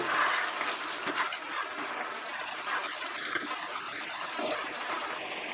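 Jackfruit curry (echor kalia) bubbling on the stove, a steady wet burble and low simmer with faint stirring, close and quiet, no speech.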